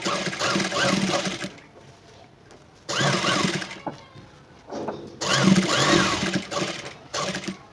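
Sewing machine stitching lace around the round neckline of a blouse, running in three loud bursts of rapid whirring with short pauses between them, no talking.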